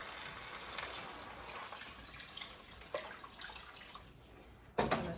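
Water poured into a cooking pot while making Mexican rice, a steady broadband splashing stream running the whole time, with a sharper slosh near the end.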